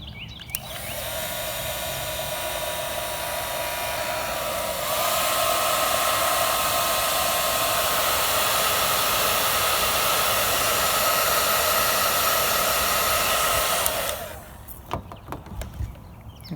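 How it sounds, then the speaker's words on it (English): A hot air gun heat-shrinking tubing onto a fishing spinnerbait, giving a loud steady close whirring blow that rises in pitch and strength partway through and runs for about fourteen seconds before cutting off. "I like to use a hot air gun. I'm going to warm this hot air gun up by turning it on"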